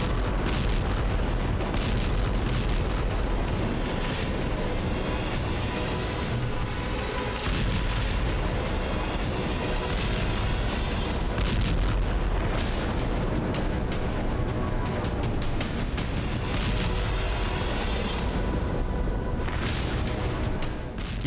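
Continuous loud explosions and artillery fire during a night attack on the port city of Sevastopol in Crimea, dense booms and blasts rolling without pause.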